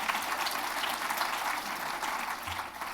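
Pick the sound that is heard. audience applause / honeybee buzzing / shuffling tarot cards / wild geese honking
audience applause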